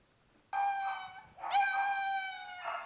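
Dogs at a California animal shelter howl and whine in long, tonal, drawn-out cries, two overlapping howls rising one after the other, close and fairly loud with no talk.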